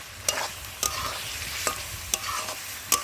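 Curry being stir-fried in a pan, with oil already separating from the cooked-down mixture: a steady low sizzle under sharp, evenly spaced scrapes of a spoon against the pan, about five strokes, close and without speech.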